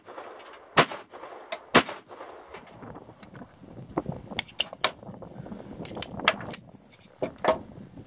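.45 pistol firing: two sharp, loud shots about a second apart, followed by scattered clicks, handling noise and faint voices.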